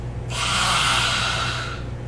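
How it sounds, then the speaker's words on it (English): A yoga lion's-breath exhale with the tongue sticking out: one loud, forceful, breathy rush of air lasting about a second and a half, close to the microphone. "sticking the tongue out, making a sound, kind of like breathing it all out, getting rid of those negative emotions"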